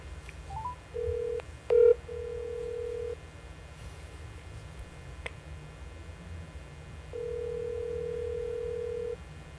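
A telephone dials out to reach a hockey coach: a short series of touch-tone beeps and clicks, then a long steady ringback tone that starts, pauses, and sounds again, clear against quiet line hiss.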